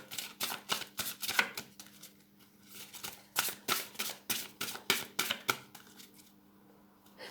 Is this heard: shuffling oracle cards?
yes